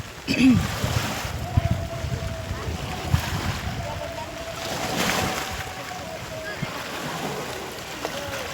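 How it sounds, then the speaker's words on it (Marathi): Wind-buffeted roar of sea waves near the microphone during rain, with occasional voices and a low engine-like hum. "लाटांचा आवाज"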